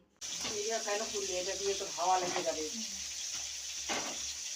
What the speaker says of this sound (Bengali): এখানে আমি মাছ ভাজা বসিয়ে দিয়েছি